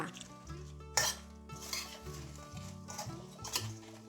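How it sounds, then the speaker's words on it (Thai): Fried sea bass pieces and sliced spring onion being tossed through sauce in a pan, with a few sharp utensil scrapes and clinks against the metal over a low steady background hum. "ใส่เนื้อปลาลงไปค่ะ เนื้อปลาที่เราทอดกันไว้เมื่อสักครู่นะคะ ตามด้วยต้นหอมซอยค่ะ คลุกเคล้าให้เข้ากันค่ะ"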